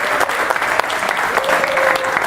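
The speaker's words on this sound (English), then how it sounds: "let's give them all one final warm round of applause" A crowd applauds steadily throughout, a dense, even patter of many hands clapping.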